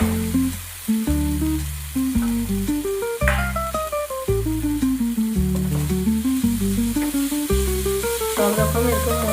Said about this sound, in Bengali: এবার সবজিটা দিয়ে দিব।